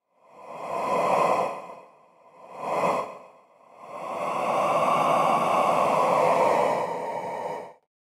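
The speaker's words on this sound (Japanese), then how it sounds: "動物というかもう何かあの怖い生き物悪魔のような感じの息遣いでしたね" Synthesized demon-like creature breathing from the DSP series sound effect tools, three long raspy breaths, two short ones and then a sustained drawn-out exhale, loud and close with no talk.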